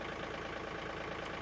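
A tractor engine runs at a steady idle, a continuous even low rumble heard close up, alone without voices.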